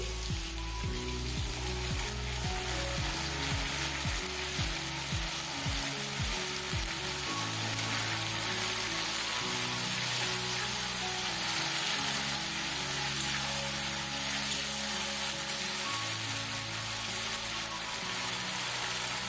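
Ginger-cumin paste sizzles and fries loudly in a pan with boiled jackfruit for a Bengali home-style echor dish, a steady crackling hiss running throughout with occasional stirring and no talk.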